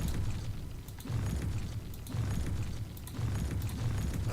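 Buildings being bulldozed in the city-building game Cities Skylines produce a steady rumbling, crumbling roar that swells in roughly one-second pulses, dense and continuous without talk.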